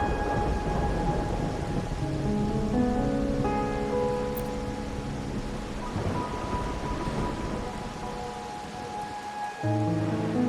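Steady rain falls through a night scene in the game Wuthering Waves, a dense continuous hiss with distant thunder tones rumbling underneath, layered with sustained musical notes throughout.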